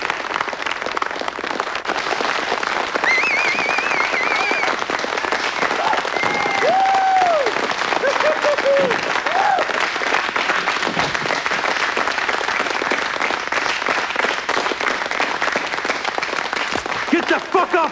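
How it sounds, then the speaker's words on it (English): A large crowd bursts into a big, sustained round of applause, dense clapping running steadily throughout with scattered whistles and cheers rising above it and voices mixed in. "A big round of applause."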